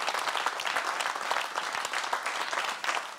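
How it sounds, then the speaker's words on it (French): A studio audience claps steadily and densely throughout, a sustained wash of hand claps at the close of a talk show with no voices on top. "Applaudissements pour vous."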